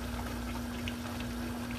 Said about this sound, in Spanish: echa la salsita así